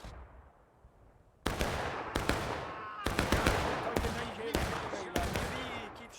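Gunfire crackles in the War of Rights battle game, a series of sharp, loud shots and volleys at irregular intervals, each with a decaying echo, while a voice talks over them.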